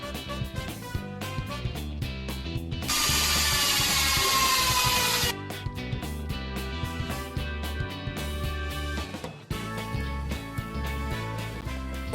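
An angle grinder shrieks through a continuous bright cutting burst lasting a couple of seconds during work on an old house, surrounded by rhythmic tool noise and clattering, loud and close.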